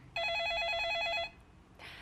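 Electronic telephone ring for an incoming call, one steady warbling burst of about a second that cuts off cleanly, followed by a brief rustle, loud and alone.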